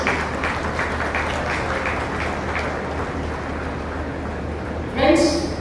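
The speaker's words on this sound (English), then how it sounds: "A big applause for MAHE," A crowd applauds steadily at a university convocation ceremony, a dense continuous wash of clapping that carries on for several seconds before tapering off.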